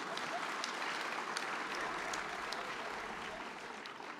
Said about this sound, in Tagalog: Sa lakas po ng palakpak niyo